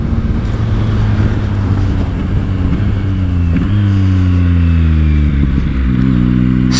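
A Yamaha MT-09 SP three-cylinder motorcycle climbs through several upshifts, its engine note rising in pitch in each gear and then dropping briefly at each shift, heard close up under steady wind roar.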